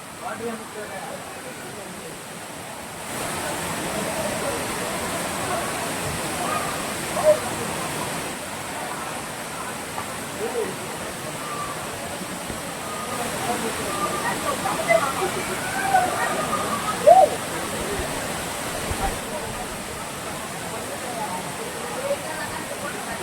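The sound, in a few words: Aagaya Gangai waterfall, Kolli hills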